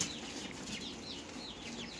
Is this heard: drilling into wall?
no